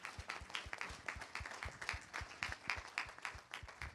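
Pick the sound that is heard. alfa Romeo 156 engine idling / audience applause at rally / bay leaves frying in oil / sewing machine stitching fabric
audience applause at rally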